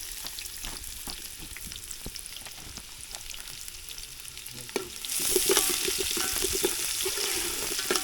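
Garlic, onion and cinnamon leaves frying in hot oil in a pot, cooked over a wood-fired stove for a chicken party: a steady broadband sizzle with scattered clicks of stirring, turning louder and denser midway as fresh ingredients hit the oil.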